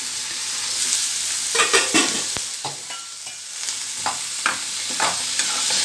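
Chopped ash gourd and half an onion fry in a pan while a spoon stirs them, giving repeated scraping strokes over a bright, continuous sizzle, close and fairly loud, with no talking.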